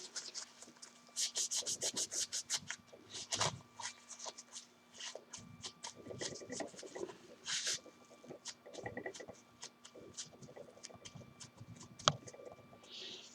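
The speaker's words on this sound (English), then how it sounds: "take a piece of paper towel and dry everything off with it" Paper towel rubbing and wiping disassembled Taurus PT 140 PRO pistol parts dry, a series of soft scratchy rubs and light ticks in irregular bursts, close and quiet.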